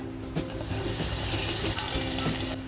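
Curry leaves hit hot oil after popping mustard seeds with a loud, bright sizzle that crackles and pops continuously, with a few stirring clinks close up.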